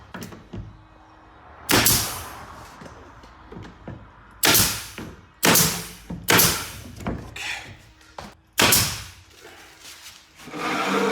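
A nail gun fires into a wooden wall panel being installed, with a handful of sharp, loud single shots spaced a second or so apart over a quiet room background.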